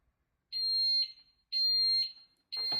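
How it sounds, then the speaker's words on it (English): Fire alarm under test inside a shop, sounding three loud electronic beeping bursts of roughly half a second each, separated by brief silences, with no talking. "you've got to go around and do a fire alarm test"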